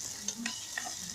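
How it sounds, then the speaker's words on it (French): Water goes into a hot cooking pan where basil and eggs are being prepared, giving a steady hissing sizzle with a few quick scraping stirs, close and fairly quiet. "Et là, je vais ajouter de l'eau"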